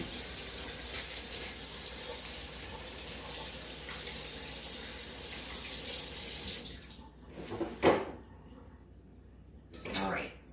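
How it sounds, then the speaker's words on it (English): Water runs from a kitchen tap as hands are rinsed, a steady close splashing stream that cuts off abruptly, followed by a couple of faint clinks and rustles. "I'm gonna rinse my hands real quick"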